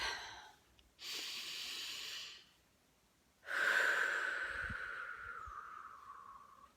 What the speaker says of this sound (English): Okay, deep breath.